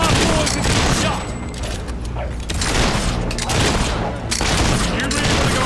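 Loud volleys of gunfire and booming shots in a Fable III battle, crackling over dense combat noise in several surging waves, with shouting voices mixed in.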